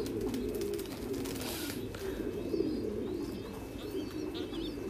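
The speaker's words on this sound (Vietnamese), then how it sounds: "Mọi người có thể thấy là chim bồ câu ra ràng và chim bố mẹ này." Thai Titan pigeons, adults and fledglings kept by a breeder, coo in a low steady murmur, with faint chirps over a constant ambient hum and no talk.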